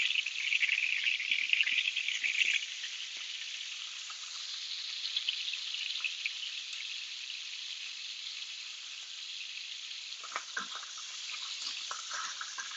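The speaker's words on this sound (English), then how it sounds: "Now our bacon is frying up." Thick bacon strips fry in a hot pan with a steady, close sizzle and scattered crackles and pops that grow busier toward the end.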